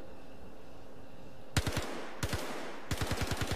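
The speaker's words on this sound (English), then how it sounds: "Why are my bullets shooting that way?" Bursts of Behring rifle gunfire in the Star Citizen video game: three rapid volleys of sharp, loud shots, each a quick string of several rounds, with short pauses between, over a low background hum.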